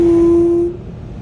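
A car wash air dryer blows on a car, a loud steady whining roar that cuts off after under a second, leaving a lower residual rumble.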